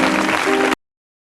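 Applause from a concert audience, a dense steady patter of many hands clapping together, loud and continuous for under a second before cutting off abruptly into silence.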